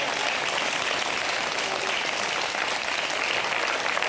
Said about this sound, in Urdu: میں چاہوں گا بہت زیادہ تالیاں بجائی جائیں میری اہلیہ بشرا عامر کے۔